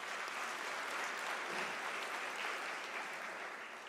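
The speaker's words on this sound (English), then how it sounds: "Can we applaud that message?" Sustained, dense applause from the audience at a University of South Africa autumn graduation ceremony, a steady wash of clapping filling the hall for the full stretch without any talk.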